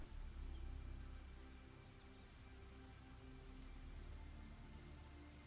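Steady, soft rainfall ambience from the video game Cauldron Chronicles, a continuous even patter of rain on surfaces with a low rumble underneath, holding at a constant quiet level without pauses.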